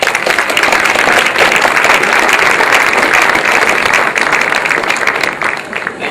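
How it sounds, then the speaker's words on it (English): A lecture audience gives warm, sustained applause as a speaker on obesity is welcomed, thick steady clapping from many hands that eases off slightly near the end. "Warm round of applause."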